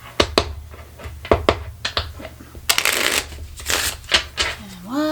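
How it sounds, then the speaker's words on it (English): A deck of playing cards is shuffled in bursts: sharp riffles and snapping bridges, several quick separate flurries close to the microphone, with a longer riffle near the middle and a brief voice at the end. "So we'll shuffle them again to get everything back into the deck."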